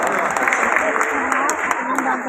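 Sustained audience applause at a Hindi kavi sammelan poetry gathering in Aligarh, dense steady clapping from a large crowd filling the whole moment with no pauses.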